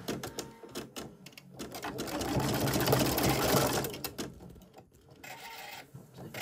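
A Husqvarna Designer Epic 3 sewing machine embroiders flower centres with French knot stitches, its steady rapid needle chatter swelling louder in the middle and easing off, with brief pauses between runs.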